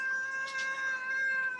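A domestic cat meows in two or three short, close, tonal calls that run together, with no speech over them.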